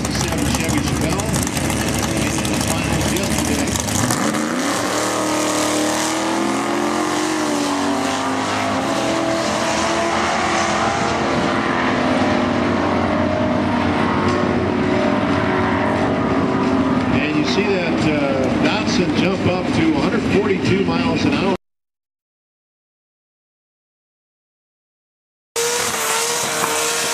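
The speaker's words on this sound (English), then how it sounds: "Angela Jeanette now driving the Jeanette car, 67 Chevy Chevelle." A 1967 Chevy Chevelle at a drag strip, its engine roaring loud and continuous with rising revs and possible tire squeal, under an announcer's commentary, then cut off by a few seconds of silence before sound returns.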